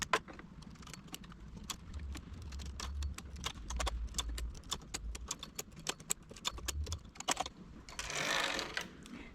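A domestic knitting machine carriage runs across a row while making a small doll's hat, giving a dense stream of sharp mechanical clicks and clacks with a low rumbling slide, close and steady, ending in a brief hiss.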